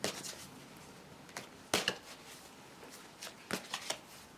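Tarot oracle deck cards shuffled by hand in quick riffling bursts, several separate flurries with short pauses between them, close and fairly quiet.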